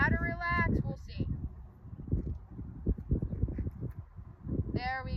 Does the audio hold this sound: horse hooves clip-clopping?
yes